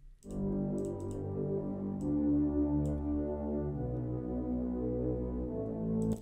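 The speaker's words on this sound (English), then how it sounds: "It consists out of the guitar and the bass line," A mellow electronic groove of layered guitar-like chords from a Serum synth preset over a steady low bass line, with faint clicky percussion near the start and end, no talking.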